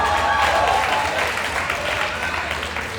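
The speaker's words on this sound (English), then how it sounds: "Let's clap it up." Room of guests at an N.A.A.C.P. 85th anniversary Freedom Fund gala in Long Beach breaks into steady, dense applause, loud and continuous throughout with a low murmur of crowd underneath.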